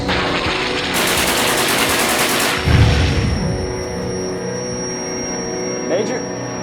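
Machine gun fire in a World War II action film sounds as one rapid, dense burst of shots lasting over a second. A booming impact and a roaring engine-like rumble follow, then fade under the mix.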